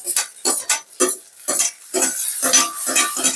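Onion and tomato curry stirred in a pan, a steady run of about eight scraping strokes of a spoon against metal, close and rhythmic, with soft frying underneath and no talk.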